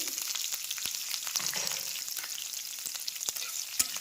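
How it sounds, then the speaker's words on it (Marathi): Mustard seeds, curry leaves and chilies temper in hot oil with a steady, close hiss of sizzling, broken by scattered sharp pops and crackles. "चांगली मोहरी उडली की कढीपत्ता आणि मिरची घालायची"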